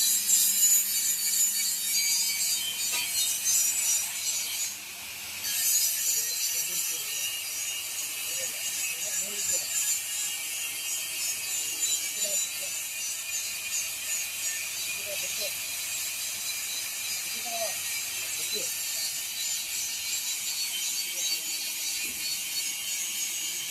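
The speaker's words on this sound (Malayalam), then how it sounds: "ഈ ഒരു പീസാണ് കട്ട് ചെയ്യുന്നത് കേട്ടോ." A cutting tool works through a piece of a Mahindra Thar underbody guard, giving a sustained high-pitched grinding whine, briefly interrupted once, that continues steadily throughout.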